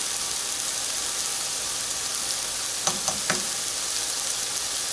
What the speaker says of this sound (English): I have a pound of turkey meat browning in my pan.